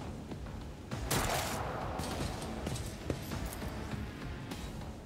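Gunfire in the Warhammer 40,000: Rogue Trader video game: a loud, close volley of sharp shots, followed by a sustained crackling roar with a few more distinct cracks scattered through it.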